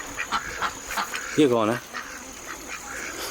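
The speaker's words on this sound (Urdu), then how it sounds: "لو جی بطخیں گئی ہیں وہ سیر کرنے کے لیے" Ducks quack in an outdoor yard in China, a short harmonic call standing out near the middle amid other faint bird calls, with a person speaking briefly over the scene.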